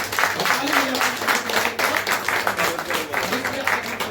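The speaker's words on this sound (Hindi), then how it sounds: "तालियां बजाएंगे।" A church congregation clapping loudly during a sermon, rhythmic, roughly unison hand claps in a steady beat, with a voice faintly heard underneath.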